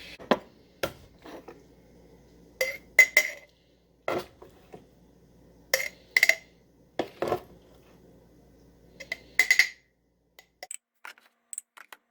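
Glass jars clinking and knocking in a kitchen while nettle pesto is spooned into them, a scattered series of sharp, close taps and clinks with quiet pauses between.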